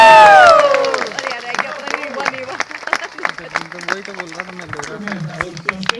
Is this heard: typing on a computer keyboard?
no